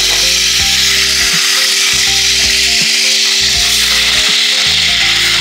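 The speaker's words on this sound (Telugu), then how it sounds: "స్పూన్ల అల్లం వెల్లుల్లి పేస్ట్ బాగా వేయించుకోవాలి." Ginger garlic paste fries in hot oil for a mushroom pickle, a loud steady sizzle overlaid with a persistent droning hum and repeated scraping strokes.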